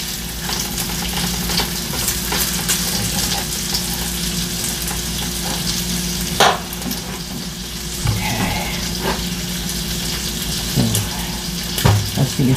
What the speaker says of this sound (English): Let the bacon cook. Nice and crispy.